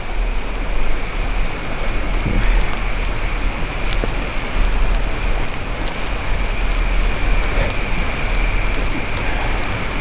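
Light rain patters steadily outdoors near a burning campfire, a dense, even hiss of drops that is fairly loud and continuous, with no talking.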